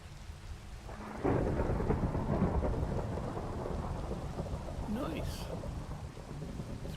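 Thunder rolls through a rainy thunderstorm over farmland, a deep rumble swelling suddenly and lingering beneath a steady hiss of falling rain.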